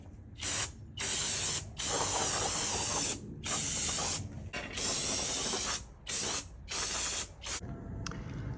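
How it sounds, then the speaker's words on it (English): Brake cleaner sprayed from an aerosol can onto the nicks and crannies of a brake pedal support from a 1965 Mustang, in a series of loud hissing bursts separated by short pauses, with no talking. "I'm gonna use some brake clean."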